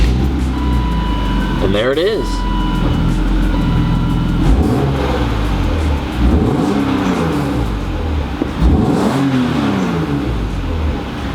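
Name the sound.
BMW car engine starting and running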